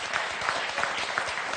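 Studio audience on the French game show Motus applauding, a short, steady wash of dense clapping with no pause.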